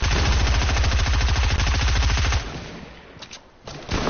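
Fortnite gunfire: a fast, sustained automatic burst of loud, close shots for about two seconds, then the firing stops and gives way to quieter game sounds and a few scattered noises.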